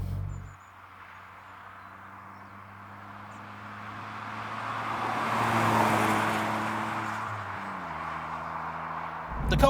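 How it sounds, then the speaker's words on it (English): Tyre roar and wind noise fill the cabin of a Smart Roadster Brabus cruising at around 50 to 60 mph. A steady low road drone swells gently and then eases, with the engine humming underneath and no talking. "Even at the sort of 50-60 mile an hour, there's quite a bit of tyre and wind noise coming through"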